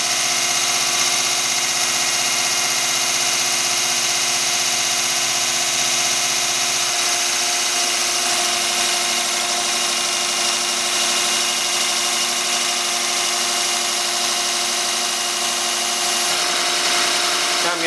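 A diesel engine with a DB2 injection pump idles steadily on a test setup, a loud continuous buzzing drone whose pitch drops slightly partway through as the idle settles lower.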